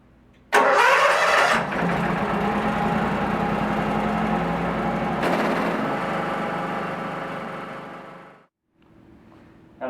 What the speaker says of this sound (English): start the engine and let it run for approximately 3 minutes